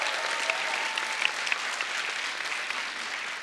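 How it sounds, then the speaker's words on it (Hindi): Studio audience at a comedy talk show applauding, a continuous even wash of clapping that holds steady throughout. "जोरदार तालियां"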